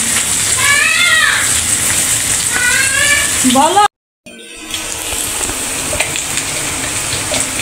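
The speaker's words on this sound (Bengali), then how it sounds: "পেঁয়াজটা ভাজা হয়ে গেছে।" Onions sizzle in hot oil while someone talks over the first half, then the sound cuts out for a moment before the steady frying hiss returns on its own.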